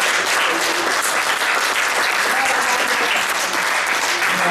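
A loud, dense round of applause from a gathered crowd during a hospital occupation, sustained and even throughout with faint voices mixed underneath.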